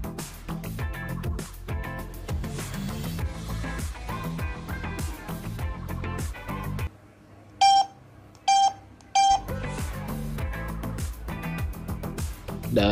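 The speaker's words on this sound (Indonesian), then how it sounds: "Untuk notifikasi telepon masuk dia seperti ini guys." HW12 smartwatch incoming phone call notification: a bright melodic ringtone plays, breaks for a short gap with three sharp beeps, then the melody resumes, heard up close with no talk over it.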